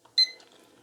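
A DS-8083 backlit LCD clock gives one short, clear electronic beep as its mode button is pressed, a quiet isolated tone followed by faint room noise.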